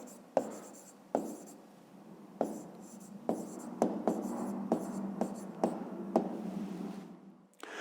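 Pen or pencil writing by hand on paper while working out a fifth-grade maths answer, close-up scratchy strokes with sharp taps at each new mark, steady over several seconds with no talking.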